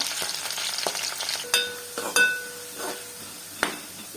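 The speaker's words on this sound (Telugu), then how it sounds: "ఉల్లిగడ్డలు బాగా ఎర్రగా వచ్చేంత వరకు ఫ్రై చేసుకున్నాను." Onions frying in a pan until reddish, a close steady sizzle broken by a few metallic scrapes and knocks of a spoon against the pan.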